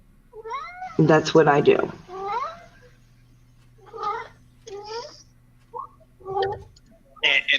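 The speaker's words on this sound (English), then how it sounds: "you see how my cat gets when he thinks I need attention" A house cat meows repeatedly for attention in short, drawn-out calls spread through the clip, mixed with a person talking nearby.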